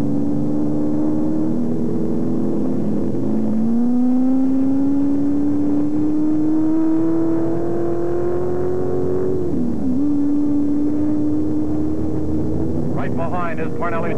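1966 Can-Am race cars wind through the S-curves at Las Vegas, their engines a loud, close, continuous drone that climbs steadily in pitch, dips sharply, then settles again.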